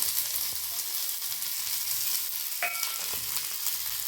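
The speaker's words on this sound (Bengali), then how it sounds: "তেলে দিয়ে দিচ্ছি একটা গোটা শুকনো লঙ্কা, আর দিয়ে দেবো পেঁয়াজ, রসুন কুচিয়ে নিয়েছি" A whole dried red chili, chopped onion, garlic and slit green chilies fry in hot oil, giving a loud, continuous close sizzle with a brief clink of a utensil partway through.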